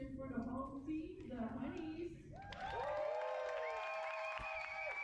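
Roller derby crowd at a Johannesburg bout between Golden City Rollers and Rotterdam Death Row Honeys, cheering and whistling for the home team in a sustained swell after a stretch of loud talk and crowd noise.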